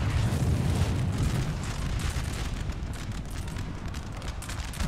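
Artillery barrage in Napoleon Total War, with 12-pounder guns firing together: a dense, continuous roll of heavy booms and rumbling explosions, loud and sustained with no pauses.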